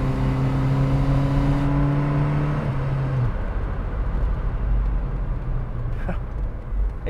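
A Saab 900 Turbo 16 S with a 2-litre turbocharged engine accelerates, a loud rising engine note that climbs through a gear, then drops into a rougher, broader road and engine roar as the car pulls away.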